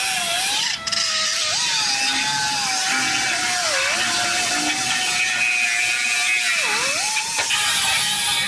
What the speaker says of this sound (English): I'm just gonna cut this cross member in half and get this out of the way